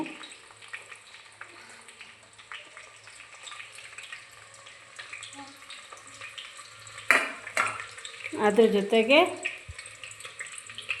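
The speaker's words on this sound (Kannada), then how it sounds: "ಈಗ ಆನಿಯನ್ ಹಾಕ್ತಾಯಿದ್ದೀನಿ" Chopped onion tipped into hot ghee in a pan for vegetable ghee rice: a steady low sizzle, then a sharp splash-hiss as the pieces land and a louder crackling burst while they are stirred, with no voices.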